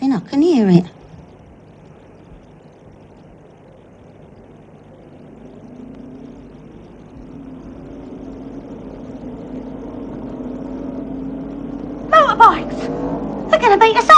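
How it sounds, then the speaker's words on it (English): Motorbikes approaching from a distance at night, a low engine drone that swells steadily louder over several seconds and ends in revving, with brief voices at the start and again near the end. "Motorbikes!"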